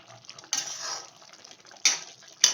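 A lid goes onto a pot of simmering poori masala, a potato curry thickened with gram flour. Three short metallic clanks sound close by, the first with a longer rattle and the last two sharp and brief, over a quiet kitchen background.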